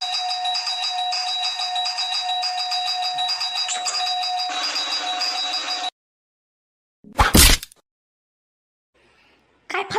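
A house doorbell rings with a sustained electronic chime for several seconds, then cuts off, followed by a brief burst of noise and a faint sound near the end.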